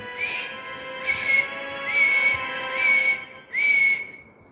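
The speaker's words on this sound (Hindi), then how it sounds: "सीटी बजाकर रास्ता साफ करने का संकेत देना होगा, तभी बाहर आएंगे।" Whistle blown as a signal, five shrill blasts, the last one longest and slightly rising, clear and close with no talk.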